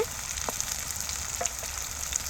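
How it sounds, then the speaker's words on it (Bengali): Bitter gourd frying in a pan makes a continuous bright hiss, with a few soft pops and crackles scattered through it; no voices. "ভাজা হয়ে গেছে"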